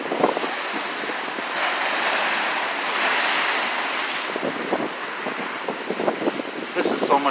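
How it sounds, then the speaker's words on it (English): Ocean waves roll onto the shore as a fast tide comes in, a continuous surging wash with swelling peaks, buffeted by wind on the microphone and broken by occasional bits of nearby talk. "I'm fascinated with tides and waves."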